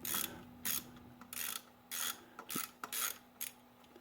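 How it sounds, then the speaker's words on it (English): A ratchet with a half-inch socket works on the alternator nut of a 1972 Corvette engine, making close rapid clicking bursts in an uneven back-and-forth rhythm. "So I've got the ½ inch socket. This will loosen it up."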